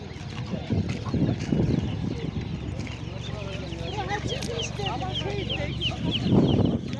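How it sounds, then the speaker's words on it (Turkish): Chicks and chickens cluck and chirp at a busy outdoor poultry market in Sungurlu, Çorum, steady overlapping calls close by amid crowd bustle and voices. "Karışık civcivlerimiz var."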